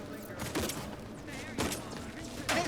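Gunfire from the video game The Outer Worlds 2, a few short bursts of shots at moderate volume, with quieter game sounds between them.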